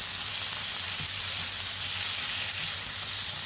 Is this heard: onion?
yes